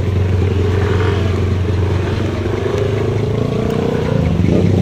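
A motorcycle engine, stranded after crossing floodwater, runs steadily close by, with a loud, continuous rumbling drone and a slight rise in revs near the end.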